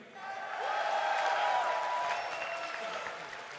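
A large BlizzCon audience at a StarCraft GSL grand final cheers and applauds in a broad, sustained roar that swells and then eases slightly, with scattered voices mixed into the crowd noise.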